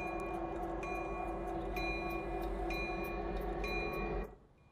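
A CSX SD80MAc diesel locomotive in the Train Sim 22 game, a steady loud engine drone with a regular ticking beat and tonal hum that cuts off sharply near the end, no talk.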